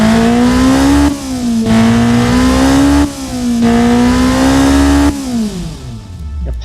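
A sport car engine screams at full throttle, loud and close, rising in pitch through three long pulls with brief drops between them as gears change, then winding down at the end.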